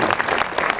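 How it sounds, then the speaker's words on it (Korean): A packed audience at a guest-visit screening of the Korean film Handsome Guys, with Song Joong-ki as special guest, breaks into dense, loud applause that fills the whole short burst. "여러분 박수 한번."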